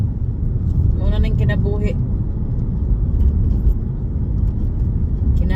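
Car driving along a road, with a steady low engine and road rumble filling the background while someone talks briefly over it.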